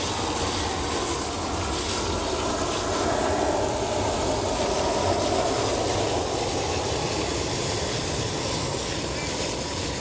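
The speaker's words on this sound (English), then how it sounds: "I like my fireman hose nozzle because I can control exactly how much of a stream I want and lets me get right in there and rinse everything off." A fireman-style hose nozzle sprays water onto the BBS wheels of an E39 BMW during a maintenance car wash. It makes a steady, loud, continuous hiss and rush with no pauses for the full length.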